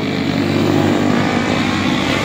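A 125cc motorcycle engine is revved hard at full throttle, a loud, steady, droning roar that holds without a break for the whole stretch, close by and with no talking.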